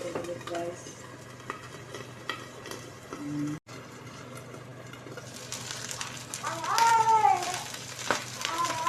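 A lid clatters onto a pan of eggplant frying in oil, with a metallic clink among stirring and cutlery sounds, then a steady sizzle that grows louder toward the end.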